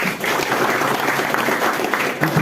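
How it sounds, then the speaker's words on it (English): An audience at an educational foundation induction program claps for itself, a dense, steady round of applause filling the space at even strength throughout. "Clap for yourself."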